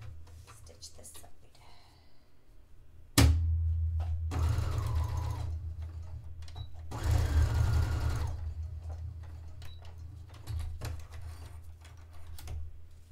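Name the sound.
sewing machine stitching a dress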